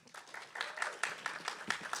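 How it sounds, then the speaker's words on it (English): A small audience at a security podcast recording gives a brief round of applause, a light scatter of individual claps, fairly close and modest in volume, over roughly two seconds. "Let's give Kalyani and Jack a round of applause."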